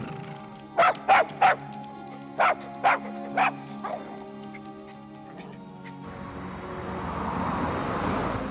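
A lone dog wandering a forest barks about six times in a steady, spaced series at moderate distance, then falls quiet as a broad hiss of wind or rustling rises.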